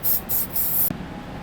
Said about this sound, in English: I'm going to spray a little bit of lube on here.